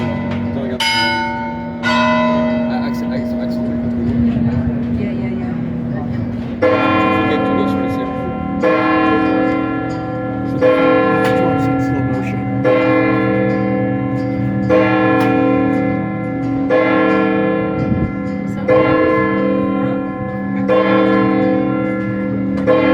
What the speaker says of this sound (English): listen for the church bells.